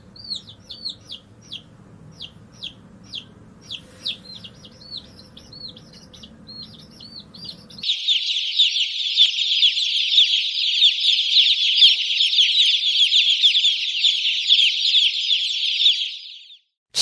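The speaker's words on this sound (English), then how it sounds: "Hen, hen. Chick," Chicks peep in a rapid run of high, bright chirps over a low murmur of hen clucking, then switch abruptly to a dense, loud, continuous chorus of peeping that fills the second half before stopping.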